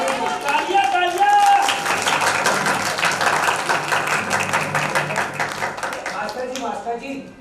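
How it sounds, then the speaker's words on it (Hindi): An audience at a stage play claps loudly and steadily, the applause mixed with voices and crowd noise, then fading toward the end. "तालियां, तालियां।"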